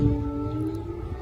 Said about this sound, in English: we hear those airstrike alert sirens in Lviv